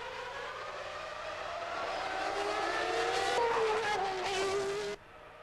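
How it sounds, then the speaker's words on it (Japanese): Formula 1 race cars at the 1994 Italian Grand Prix at Monza scream past in a loud, sustained engine roar whose pitch climbs as they pass, then it drops away abruptly near the end. "フェラーリはアレジを先行させ、ベルガーはヒルとクルサードを抑えている"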